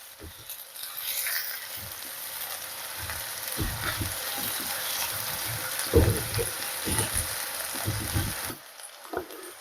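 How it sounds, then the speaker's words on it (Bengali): Sliced onions frying in a pan until light brown for potato and tomato pulao, a steady sizzle with intermittent low clattering stirs, close by and continuous before quieting near the end. "পেঁয়াজগুলো হালকা ভেজে নেব, হালকা বাদামি কালার হয়ে গেলে"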